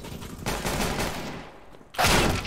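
Rapid gunfire from a shooter video game, dense bursts running through the first half, easing off, then a loud fresh volley near the end with no talk.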